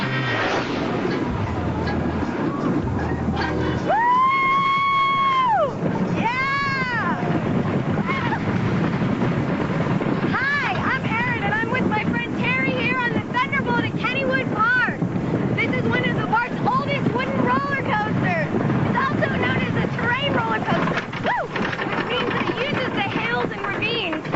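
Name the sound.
riding Kennywood's Thunderbolt roller coaster, wind rushing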